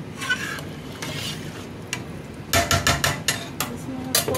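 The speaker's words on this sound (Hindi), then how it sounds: "एक चम्मच इसलिए इस्तेमाल कर रही हूँ कि दाल ना नीचे लग जाती है लकड़ी वाली चम्मच से, इससे अच्छे से हिल जाती है।" A metal spoon stirs mash dal in a cooking pot, with a few scattered scrapes and clinks at first, then a quick run of sharp, close taps against the pot.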